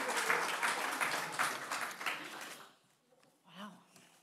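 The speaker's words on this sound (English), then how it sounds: "let's have a round of applause" An audience breaks into a burst of applause that is full for about two and a half seconds, then drops away quickly, leaving a brief quiet moment and a few faint voices.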